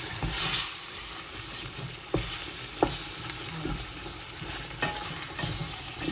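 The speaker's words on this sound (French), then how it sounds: "Bien tourner la viande pour que les épices pénètrent bien." Meat with spices stirred in a cooking pot for Moroccan couscous, sizzling and frying steadily while a utensil scrapes and knocks against the pot in occasional distinct clicks.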